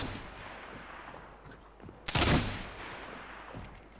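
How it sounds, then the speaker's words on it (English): Gunfire from an Apex Legends match bursts out suddenly midway, a loud cluster of shots that tails off over a busy game background. "Peter, we were already getting shot at."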